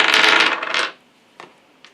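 Astrology dice clatter and roll across a hard surface in a short loud rattling burst, then settle, followed by two faint light taps.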